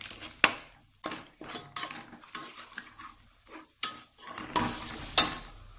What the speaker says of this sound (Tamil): இப்போ மசாலா பொடி போட்டு எண்ணெயில் லைட்டாக வதக்க விடுங்க